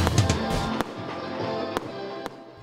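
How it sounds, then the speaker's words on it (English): Fireworks burst over Metro Manila on the night welcoming 2021, sending sharp, loud cracks at irregular intervals over a dense, crackling rumble from the display. "Pinaliwanag pa rin ng mga fireworks display ang kalangitan ng Metro Manila sa pagsalubong ng 2021"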